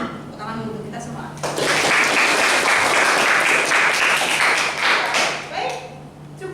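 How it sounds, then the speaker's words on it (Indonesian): A university mathematics class breaks into loud, dense applause lasting a few seconds, with brief talking just before it starts and again as it fades. "Ya, tepuk tangan dulu kita semua."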